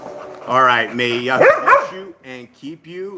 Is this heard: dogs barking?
yes